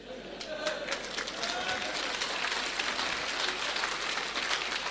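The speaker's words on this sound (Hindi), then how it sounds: "तालियां बजा रहे हैं" Sustained applause from a seated audience at a motivational talk, dense and steady clapping at moderate loudness for about five seconds with no voice over it.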